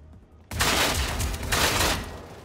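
Shotgun fire in Generation Zero: a sudden loud blast cuts in after a quiet moment, followed by ringing, rumbling gunfire and combat noise that stays loud for the rest.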